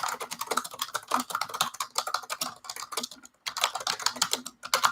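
Rapid, irregular clatter of keys on a computer keyboard, close and clear, with brief pauses between bursts of typing.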